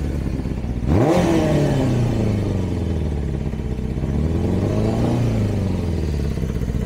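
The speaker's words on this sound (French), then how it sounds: "Alors le ralenti change parce que forcément on agit dessus." A Zephir motorcycle engine idling during carburetor synchronization, loud and close, with a sudden rev near the start and another rise later as the idle speed shifts, running continuously with no talking.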